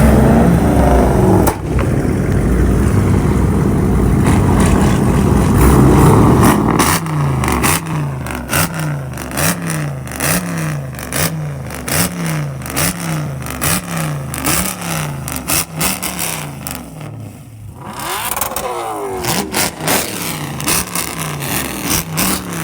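A Dodge Challenger Scat Pack engine revs hard at a car meet, a loud sustained roar followed by a long series of rhythmic throttle blips, close up, then a final rising rev.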